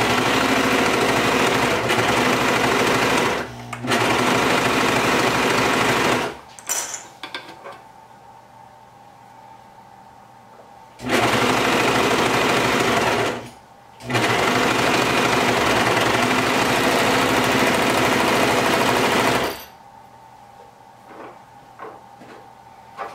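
A Brother 1034DX serger stitches fabric for baby bell-bottom pants in two long, loud, steady motor runs, each briefly interrupted, with quieter handling noises in the pauses between them.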